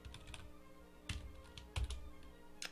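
Code is typed on a computer keyboard, a few soft, close key clicks and taps spaced irregularly over a quiet room hum.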